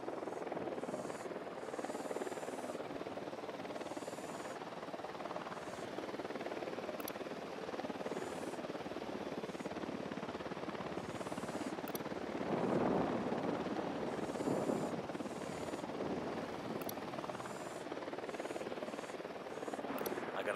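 An enemy helicopter in the Ghost Recon Wildlands video game drones steadily with a continuous rotor hum that swells slightly midway, under game sound effects and occasional voices.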